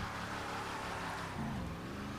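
In GTA 5, an Albany Virgo Classic lowrider's engine drones steadily and rises in pitch as it revs, loud and continuous with no voices.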